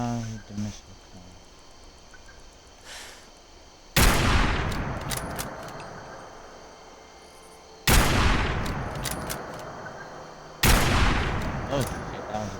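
Three loud, sharp gunshots ring out in a video game set in Appalachia, spaced a few seconds apart, each with a decaying tail, over a quiet bed with a voice talking.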